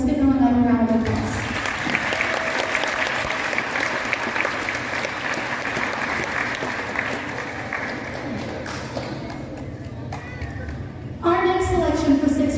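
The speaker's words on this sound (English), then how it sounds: "Let's give them another round of applause." Sustained applause from the audience at a middle school band spring concert, a steady dense wash of clapping that fills most of the clip, with voices and talk at the start and end.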